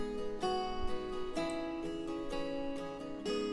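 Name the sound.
guitar track without plugins in mixing session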